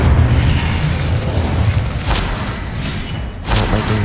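An Incendio fire spell bursts in Hogwarts Legacy: loud booming whooshes of flame, with sharp flares partway through and again near the end, over a rumbling game background.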